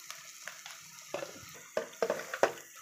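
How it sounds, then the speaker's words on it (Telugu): Eggs and vegetables fry and get stirred in a pan for street-style egg fried rice, with a soft sizzle and several sharp scraping stirs that grow louder near the end. "చక్కగా మిక్స్ చేసేసుకొని ఫ్రై చేసుకోవాలి"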